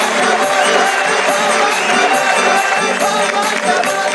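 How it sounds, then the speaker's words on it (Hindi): A large studio audience at a televised Hindi comedy poetry show cheers and claps continuously to welcome a guest, a dense steady roar of crowd noise throughout. "जोरदार तालियों के साथ हम उनका स्वागत करें।"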